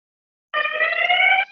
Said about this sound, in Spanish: Es que está pasando una ambulancia.